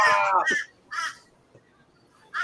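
Crows caw loudly and close by in several harsh, separate calls, with short quiet gaps between them and a final caw at the end.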